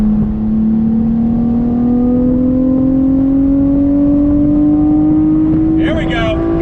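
A 2021 Chevrolet Camaro RS convertible's engine holds a steady, rising drone from the exhaust as it accelerates smoothly, loud and close, with a brief faint sound near the end.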